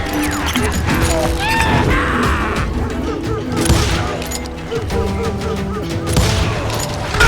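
Rapid gunfire from the Western shooter Call of Juarez Gunslinger crackles in dense volleys, with booming shots and sharp impacts piling up loudly over a busy game soundscape.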